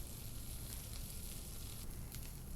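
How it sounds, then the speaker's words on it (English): Salmon frying in a pan on a Bosch induction cooktop gives off a steady, close hiss and crackle of sizzling oil throughout. "Listen to that sizzle."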